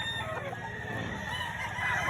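Rooster calls and clucking from nearby fowl at a poultry auction in Lipa, continuous and fairly steady, with a busy outdoor background and no clear talking.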